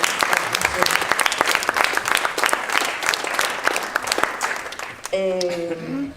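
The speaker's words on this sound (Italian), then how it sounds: "Un applauso lo facciamo anche a lui." An audience at a poetry festival talk breaks into warm applause, a dense, even burst of clapping from a crowd that fades as a voice resumes speaking near the end.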